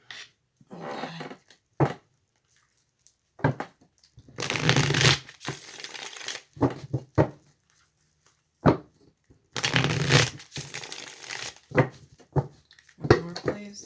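A deck of tarot-style cards is shuffled by hand in repeated bursts, crisp riffling and flapping bursts separated by pauses, close up with occasional soft talk.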